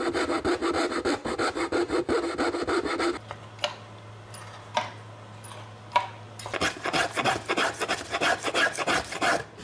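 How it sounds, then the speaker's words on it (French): A scroll saw makes the first cut in wood for a Stradivarius-model violin, fast rhythmic rasping strokes that pause for a few seconds into a low motor hum with scattered taps, then resume. "C'est une scie à chantourner qui va permettre la première découpe."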